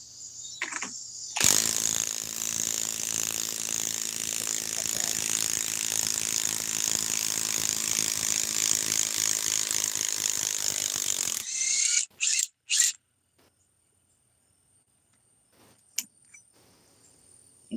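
A Bosch GDS 18V 330C mid-torque impact driver with a 4 amp 21700 battery backs out a lag screw: about ten seconds of loud, continuous rapid hammering rattle, followed by a few short bursts, then silence.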